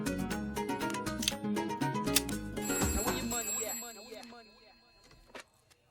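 A telephone rings during a scene in a Hindi comedy film, with repeated bright ringing bursts over a busy, music-like background that fades out toward the end.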